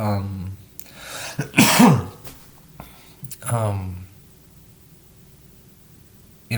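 A person coughs and clears their throat several times in short, harsh bursts, close up, with brief pauses of quiet between them.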